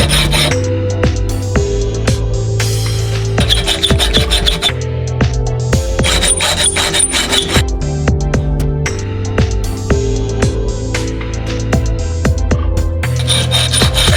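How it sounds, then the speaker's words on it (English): Hand file rasping a metal frame part for a wearable jet pack, loud repeated back-and-forth filing strokes in a steady rhythm close up, with a low tonal hum running beneath. "just file it down a bit more"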